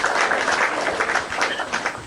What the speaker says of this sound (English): Now clap for Mr. Aristocrat.